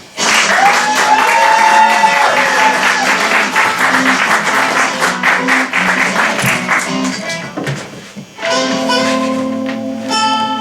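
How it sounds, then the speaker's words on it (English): An audience applauds as a comedian takes the stage at a comedy show, with loud, dense clapping and crowd noise mixed with upbeat walk-on music. The applause thins briefly near the end before the music swells again. "Put your hands together"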